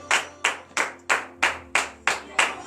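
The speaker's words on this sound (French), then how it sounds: "donnez de vives acclamations à l'Éternel" A congregation at a morning prayer service clapping in unison, eight sharp, evenly spaced claps in a steady rhythm, loud and close with no talk.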